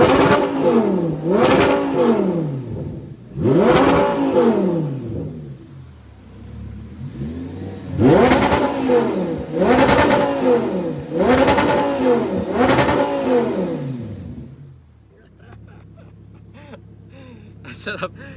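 An Audi R8 V10 engine revs repeatedly, five loud rising-and-falling blips of exhaust roar in quick succession, followed by a steady idle rumble at the end.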